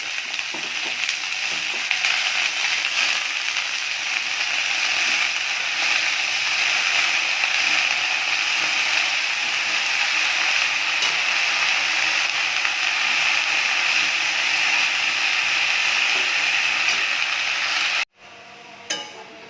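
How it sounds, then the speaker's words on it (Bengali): Spinach greens dropped into onions already fried reddish-brown in a pan, giving off a loud, continuous hiss and sizzle that cuts off abruptly near the end. "পেঁয়াজটা লাল লাল ভাজা হয়ে গেছে, এবার আমি শাকটা দিয়ে দিচ্ছি।"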